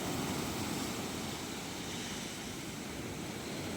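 Small sea waves roll in at a shore where fishing boats are moored, calmer than the day before, making a steady, continuous wash of surf with no voices.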